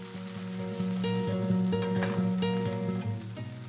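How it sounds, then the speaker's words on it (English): Broccolini sautés in a hot pan with ginger and garlic for hoisin udon noodles, giving a loud, steady sizzle with occasional clinks and stirring scrapes throughout, no talking. "Broccolini. Saute for about a minute."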